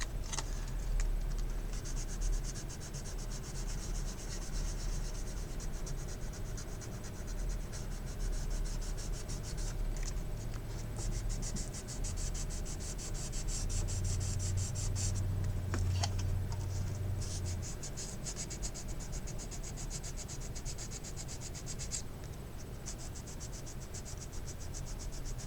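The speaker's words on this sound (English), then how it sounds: "Now we're going to go over it a little bit with the sandpaper." Sandpaper rubs over a plastic model kit of a 1996 Chevy dually pickup from AMT, a steady soft scratchy rasp that runs close and unbroken for the whole stretch with no talk.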